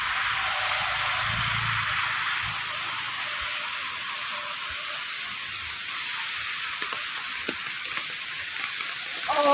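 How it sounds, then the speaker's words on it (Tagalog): Heavy rain pours steadily in a broad, hissing wash, heard close and loud from inside a vehicle on a flooded street, with faint drips and knocks scattered throughout and no talking. "Ang lakas ng ulan"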